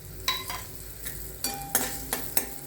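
Cashews frying in a pan with oil, urad dal and green chillies for a South Indian semolina dish, a faint steady sizzle broken by several sharp scraping and clinking strokes of a spoon as the pan is stirred.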